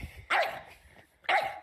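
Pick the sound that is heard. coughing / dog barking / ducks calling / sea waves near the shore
dog barking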